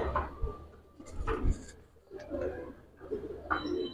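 Silver military pigeons coo softly in a few low, repeated phrases, close by and fairly quiet, with faint handling knocks in between.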